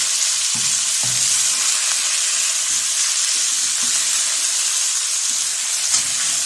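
Chicken sizzles steadily in a hot pan for Singaporean rice, a loud, continuous frying hiss broken by occasional low scrapes and knocks of stirring, with no talking.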